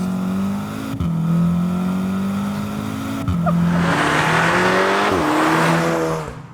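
HPA Motorsport 450 hp VW Golf R accelerating hard under boost from about 2,500 RPM, heard from inside: the engine note climbs steadily through quick gear changes, with rising whoosh and roar toward the end, no talking.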